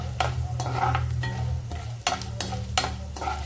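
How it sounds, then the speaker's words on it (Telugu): Mustard seeds and dry red chilli pieces crackle and sizzle in hot oil for a tempering, with sharp irregular pops and bursts of stirring over a steady frying hiss, close and moderately loud. "ఒక పావు చెంచా ఆవాలు, 2 ఎండుమిరపకాయ ముక్కలు, ఈ తిరగమాత వేగాక ఇంగు కలుపుతానండి."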